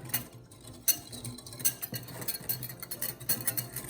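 Light rapid clicks and ticks of a whisk stirring sugar in a bowl, close and fairly quiet, irregular tapping against the bowl with no voices.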